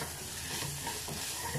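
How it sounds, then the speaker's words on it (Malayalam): Prawn masala with curry leaves being stirred in a pan, a soft continuous scraping and light sizzle close by, steady throughout with no voices. "4-5 കറിവേപ്പില കൂടെ ഇട്ടിട്ട് ഇതാ ഒന്നങ്ങ് മിക്സ് ചെയ്ത് കൊടുക്കുക."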